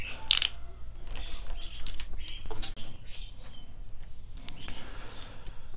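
Close metallic ratcheting and clicking from a tool loosening the handlebar bolts on a Royal Enfield Hunter 350, irregular clicks and creaks over a low steady background hum.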